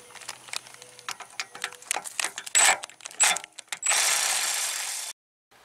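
Tools and sockets clink and rattle while a Milwaukee power ratchet with a 13 millimeter socket is readied for work on a 1989 Chevy Caprice, followed by a loud continuous whir lasting about a second.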